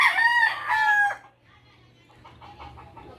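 A rooster crows loudly and close in a backyard garden during a coconut harvest, one long drawn-out call that then drops away to quieter background sounds.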